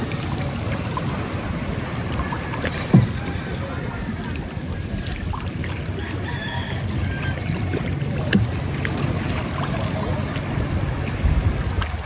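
Large Philippine outrigger boat on open water, a steady low wash of water and engine rumble with wind buffeting, a couple of faint knocks, and distant voices underneath.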